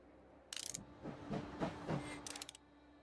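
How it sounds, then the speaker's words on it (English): Train arriving in the video game Last Train Home: a short hiss of steam, a few low mechanical rumbles and clanks of the carriages, then a second hiss, all faint and without talk. "the train's arrived"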